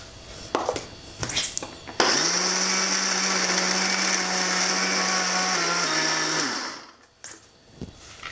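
Mixer grinder whirring as it grinds amla with salt and jaggery, a loud steady motor drone lasting several seconds, preceded and followed by brief clatters as the jar is handled.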